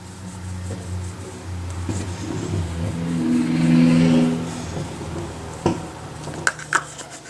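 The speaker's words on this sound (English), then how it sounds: "Please excuse the obnoxious people driving by." Cars pass by outside, a steady engine swell building and fading over several seconds, followed by a few sharp knocks near the end.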